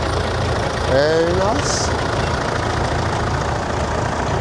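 A Nuffield 1060 tractor engine runs steadily at a vintage steam and tractor fair, a dense low rumble throughout with someone briefly speaking over it.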